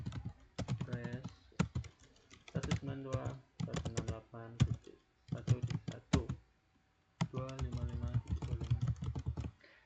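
Rapid clicking of a computer keyboard while network settings are entered in Packet Tracer, bursts of quick keystrokes separated by short pauses.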